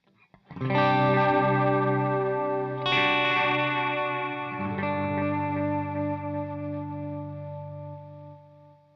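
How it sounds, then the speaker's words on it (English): Sustained electric guitar chords through a J. Rockett Audio Designs Alien Echo pedal with its Warble tape simulation on, drenched in echo and a wavering, tape-like warble, ringing out loud and slowly fading. "you have a control on there called Warble, and that's kind of a tape simulation that's fairly unpredictable"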